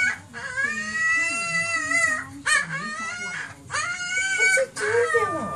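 A cat howls in long, wavering, drawn-out yowls, repeated several times with brief pauses between, loud and close.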